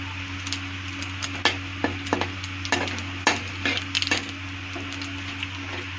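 A bay leaf and half a teaspoon of cumin seeds dropped into hot oil for palak paneer, crackling and sizzling with sharp irregular pops and spits over a steady low hum, close by, no talk.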